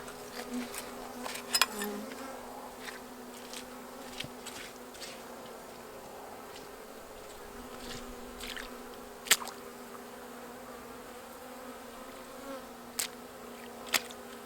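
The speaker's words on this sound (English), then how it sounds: "And there are a lot of bees on the inside." Honey bees buzz in a low, steady drone close by inside an opened hive, with occasional clicks and knocks of handling breaking through.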